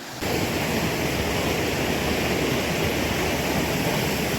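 A mountain river in the Caucasus, in Adygea's Bolshoi Thach area, rushes below, giving a loud, steady broadband roar of flowing water that stays constant throughout with no talk.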